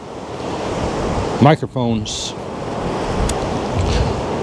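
Gusts of around 19 mph blow outdoors into a GoPro Hero 10 and Rode Wireless GO II microphone setup, making a constant low roaring rumble. A brief spoken word cuts in partway through.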